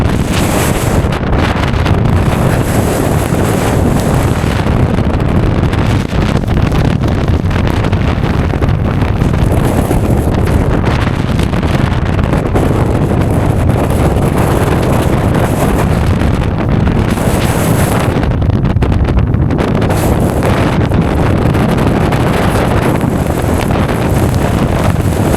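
Strong mountain wind batters the microphone high on the Island Peak climb, a loud, unbroken roar of buffeting gusts that surges and eases over nearly half a minute.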